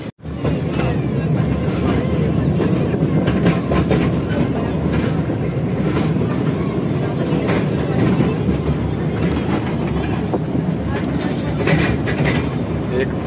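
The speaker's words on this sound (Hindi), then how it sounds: "एकदम से अलग वाइब है इस ट्रेन का, एकदम से बहुत ही अलग, एकदम धीरे धीरे धीरे धीरे पूरे कांकरिया लेक आपको घुमाएगी चारों तरफ" A slow toy train circles Kankaria Lake in Ahmedabad, rumbling with continuous clattering wheels and rattling carriages throughout, while people talk faintly in the background.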